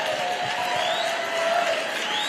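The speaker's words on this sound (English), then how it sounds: "give yourself a round of applause." A large crowd at the AmericaFest political conference applauds and cheers in a dense, steady wash of clapping with scattered whoops.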